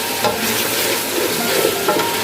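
Onions frying in a karahi, a loud, dense sizzle with brisk stirring and scraping throughout, close up and with no voices.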